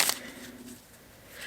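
A deck of cards is shuffled briefly at close range, a quick riffling burst followed by softer, faint handling noise.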